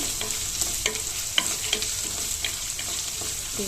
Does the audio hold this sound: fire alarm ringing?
no